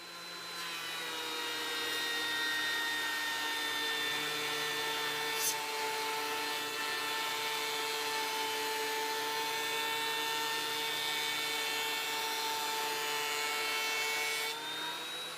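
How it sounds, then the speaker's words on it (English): A thickness planer feeds wood boards for a king-size headboard, giving a loud, steady mechanical whine with a high pitched edge that runs unbroken for about fourteen seconds before cutting off. "So now I'm going to run them through the planer."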